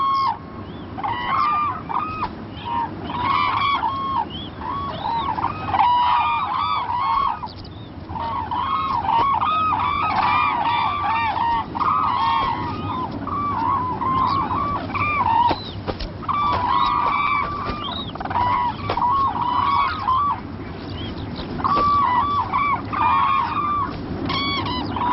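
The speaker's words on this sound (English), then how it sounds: "After their long journey, the cranes begin a ritual dance." Cranes call over a marsh in Bhutan, their loud, repeated bugling and honking notes layering into a continuous chorus with several birds overlapping throughout.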